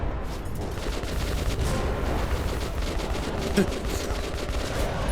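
Flame grenades take out enemies in the Metro 2033 video game amid dense, continuous combat noise: rapid overlapping bursts and booms at a steady, fairly loud level.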